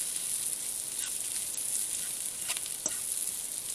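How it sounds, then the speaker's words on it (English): An omelet with spices sizzles in a pan as it is stirred, giving a steady soft frying hiss broken by a few faint scrapes and clicks. "we keep stirring it so it distributes equally the spices and equally cooked"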